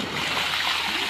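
A person jumps into a pool at a family pool party, making a loud, close rush of splashing and churning water with no talk over it.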